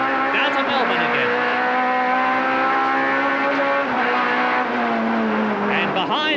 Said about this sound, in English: Whale keeps ahead on the right-hand part of the S's. Accelerate away